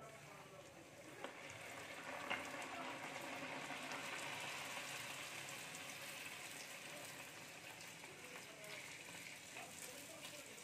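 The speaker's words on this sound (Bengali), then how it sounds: "পুরিগুলো তেলে ছেড়ে দেব।" Thick-rolled puris fry in hot oil with a soft, continuous bubbling hiss. It holds at a low, even level throughout with a few small pops.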